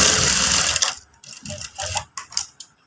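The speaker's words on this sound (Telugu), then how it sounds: "ఇక్కడ అనేది ఒక 1/2 ఇంచ్కి ఇలా కుట్టుకోండి." A sewing machine stitching the hook strip of a katori blouse: a loud, continuous mechanical whir at first, then shorter stop-start bursts of stitching, close to the listener.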